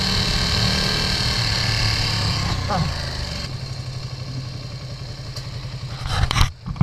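A loud Ducati Panigale V2 sport motorcycle engine, stock exhaust, runs and revs with a rough, rattling exhaust note, steady then briefly surging near the end.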